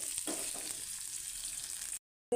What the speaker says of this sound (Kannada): ಫ್ರೈ ಮಾಡ್ಕೊಳ್ಬೇಕು ಹುರ್ಕೊಳ್ಬೇಕು ಸ್ವಲ್ಪ ಈರುಳ್ಳಿ ಎಲ್ಲ ಬಾಡೋ ತನಕ ಹುರ್ಕೊಳ್ಬೇಕು